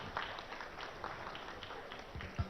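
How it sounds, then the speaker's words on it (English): Applause from an audience at a groundbreaking ceremony for Daifuku's new factory, a steady, fairly faint patter of clapping throughout with no voices over it. "Round of applause, thank you."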